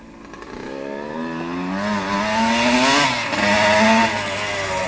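A 1980 Yamaha YZ125 air-cooled two-stroke motorcycle engine revs up close by, its buzzing pitch climbing and dipping through several throttle blips at steady loudness.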